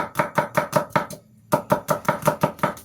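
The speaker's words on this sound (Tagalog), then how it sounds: "So akong giduha ni atong bombay." Knife chopping onion on a cutting board while preparing kinilaw of barilis fish, about fourteen crisp, rhythmic cuts with a short pause midway, close and loud, no talking.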